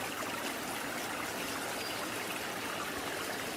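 A forest stream flows and trickles steadily, a dense, close rush of moving water with no pauses and no voices.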